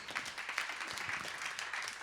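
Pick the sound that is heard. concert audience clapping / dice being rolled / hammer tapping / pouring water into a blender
concert audience clapping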